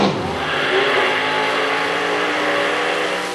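Supercharged blower drag racing cars launch at the Winter Nationals, a loud, sustained roar of big engines filling the track for a few seconds with no talk over it.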